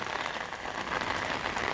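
Rain pours steadily onto a cloth rain catcher stretched and hung at its center, a dense, even hiss of drops close by with no talking.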